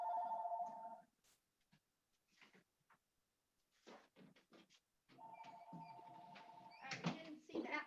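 A telephone rings in quiet indoor surroundings, with two bursts of steady electronic ringing separated by soft talk and small handling noises.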